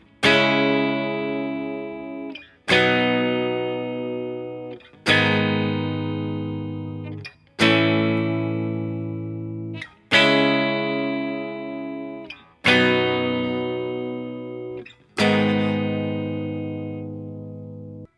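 Electric guitar plays the chord progression of a song, seven strummed chords each ringing out for about two and a half seconds, with a distorted, effects-laden tone, loud and alone.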